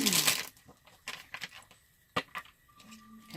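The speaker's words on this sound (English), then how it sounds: "I gotta shuffle the cards a little bit" Close, soft papery riffling and light taps of tarot cards being handled and shuffled in short bursts, with quiet gaps between.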